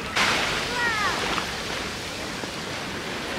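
Sea waves wash onto a sandy beach with white shells, giving a steady broadband surf hiss that swells briefly near the start and then settles into a continuous wash, with no talking.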